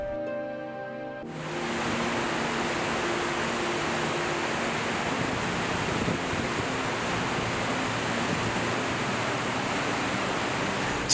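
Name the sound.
Victoria Falls waterfall roaring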